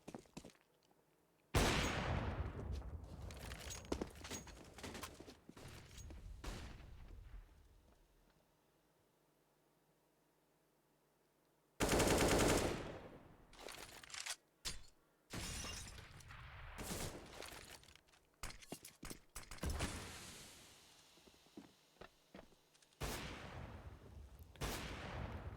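Gunfire on the Counter-Strike map Cache during a StarSeries i-League match, with bursts of loud sharp shots and shattering impacts spread across the stretch, separated by a long quiet gap, close and harsh without talk.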